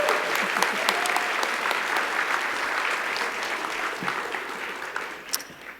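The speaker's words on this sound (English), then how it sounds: "a round of applause for our sponsors" A gala dinner crowd applauds its sponsors, a broad steady wash of clapping that holds evenly and thins slightly toward the end.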